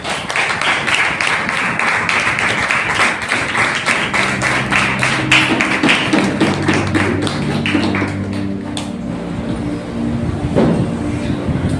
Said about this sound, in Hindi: आइए जोरदार ताली के द्वारा पास्टर सूरज इनका स्वागत करें